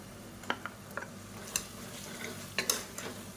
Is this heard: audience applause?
no